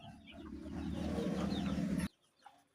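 An Aseel rooster clucks in a low, rapid, throaty burst close by, lasting about two seconds before cutting off to near silence, with no talking.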